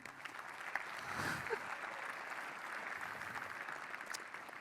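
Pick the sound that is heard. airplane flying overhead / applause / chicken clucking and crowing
applause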